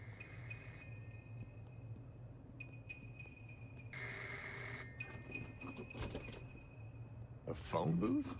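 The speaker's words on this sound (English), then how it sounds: "Is that a phone ringing?" A telephone rings faintly in the REVEIL video game, with repeated ring bursts spaced out over a quiet ambient hum, plus a louder shuffling noise near the end.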